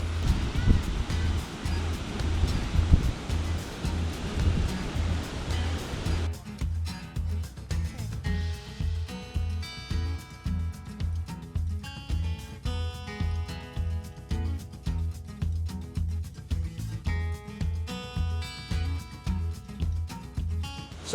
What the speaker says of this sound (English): Wow, the water is really rough today.